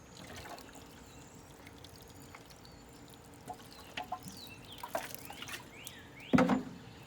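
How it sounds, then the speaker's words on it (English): Water trickles and splashes onto soil in a recycled-container garden planter, faint and intermittent at first, then a louder burst of pouring near the end, with no talking. "So I'm gonna water it."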